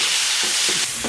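Ginger, garlic and pickled chili stir-fry in hot oil in a wok, giving a loud, steady sizzle with brief scraping stirs near the end.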